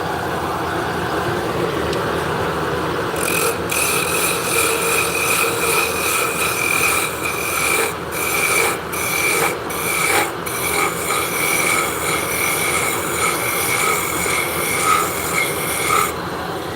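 A carbide tool cuts a cove into wood, a continuous harsh rasping scrape that runs steadily throughout, close and loud, with brief pauses and catches partway.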